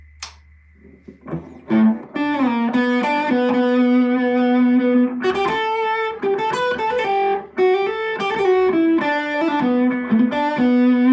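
Electric guitar with a distorted tone plays sustained notes and short melodic runs, loud and continuous after a quiet start.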